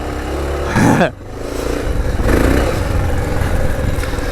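A Honda XR650L adventure-built dual-sport motorcycle works along tight Wisconsin single track. Its thumping engine rises in a brief rev before dropping back to a steady, close drone, and a rider talks over it.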